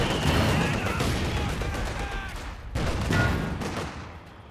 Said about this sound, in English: Heavy mortar now.